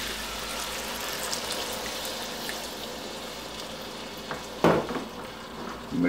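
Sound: stirring Bolognese sauce with red wine in pot

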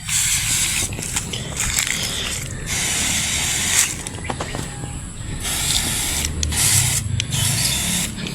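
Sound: hand sprayer spraying herbicide on weeds

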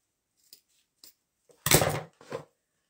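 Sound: cutting the edges of a wine box tray

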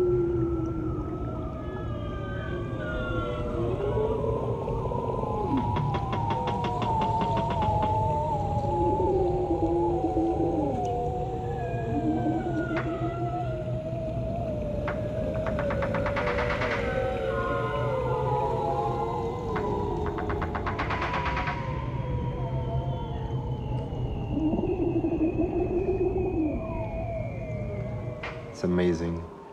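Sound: bearded seal whistles underwater, recorded by hydrophone

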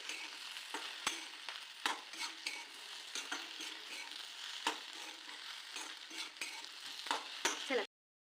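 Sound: stirring frying okra with crushed peanuts in pan

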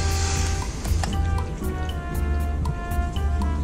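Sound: water poured onto a coated Subaru Forester car

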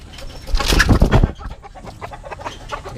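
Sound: bantam chicken and labuyo jungle fowl clucking

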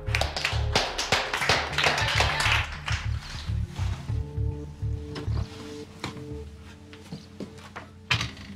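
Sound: audience applause for Ida

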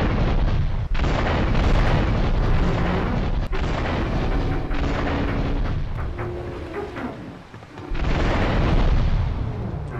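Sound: bomb explosion on boat in video game Grand Theft Auto III

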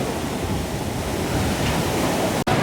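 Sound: sea waves on the Vadamarachchi beach shore

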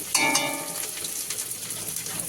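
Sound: figs boiling in a pot

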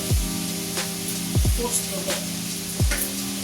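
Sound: food frying in oil in a pan

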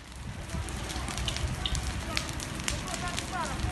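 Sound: large forest fire burning pine forest

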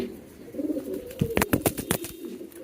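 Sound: male pigeon calling and cooing

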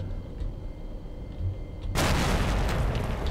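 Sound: grenade explosion in S.T.A.L.K.E.R.: Lost Alpha video game

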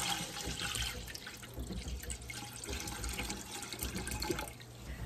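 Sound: water filling a Presto pressure canner

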